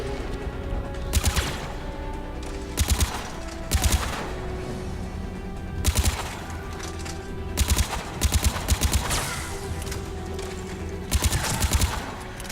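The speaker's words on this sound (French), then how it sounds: "là je viens de tirer sur le générateur pour faire exploser les deux trucs électriques" Bursts of gunfire in the Mass Effect 3 video game, fired at a generator: repeated short volleys of shots at irregular intervals over a steady droning background, loud and close.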